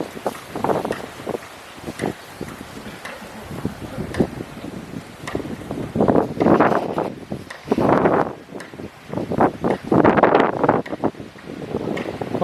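Strong wind buffeting the microphone while a Thai chula kite is flown, with rough, surging gusts that swell and fade repeatedly and grow heavier toward the end.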